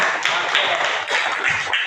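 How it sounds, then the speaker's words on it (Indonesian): A small group of students claps together in a classroom, a brisk, uneven burst of hand claps heard up close for about two seconds. "Oke, tepuk tangan untuk dia."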